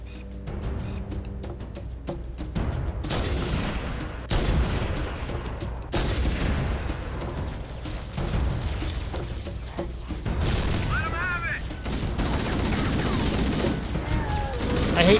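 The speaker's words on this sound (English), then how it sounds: "Don't open fire until you hear the enemy return fire on us." Rapid bursts of gunfire and heavy booming shots trade back and forth in a Halo: CE Anniversary firefight, loud and sustained, with occasional sharp blasts and faint talk underneath.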